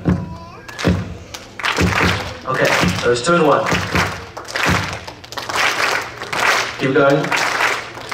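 An audience at a religious celebration claps in a rhythmic two-and-one pattern, bursts of hand claps repeating in a loose group rhythm while someone speaks between them.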